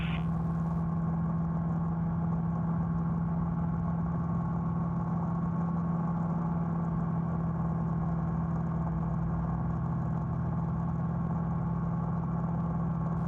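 The engine of a Challenger II light sport aircraft in flight hums steadily and continuously, a constant mid-level tonal drone with no talk.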